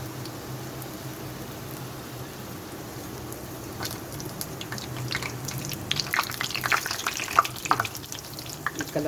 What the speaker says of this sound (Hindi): इसमें ये मैं शैलो फ्राई कर रही हूँ, आप लोग चाहें तो इसको डीप फ्राई भी कर सकते हैं।